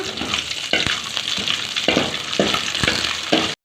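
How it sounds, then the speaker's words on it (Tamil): Cashews and raisins roast in hot ghee for semiya sago payasam, giving a steady close sizzle broken by several soft stirring scrapes and clinks before cutting off abruptly. "முந்திரி திராட்சைலாம் எடுத்துருக்கேன் அதை வந்து நம்ம நெய்யில் போட்டு நல்லா ரோஸ்ட் பண்ணி எடுத்துக்கலாம்"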